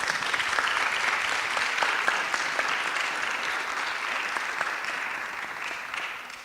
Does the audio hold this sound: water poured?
no